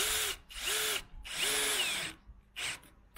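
A power drill drives a screw through a wooden plank into the metal frame of a suspended table, running in three firm bursts with a short fourth at the end, close and loud with no talk.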